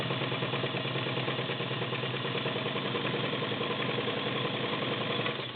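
A vintage belt-driven White/Domestic model 6478 cam sewing machine sews a straight stitch, giving a smooth, continuous rapid whirring hum at close range, steady throughout with no talking.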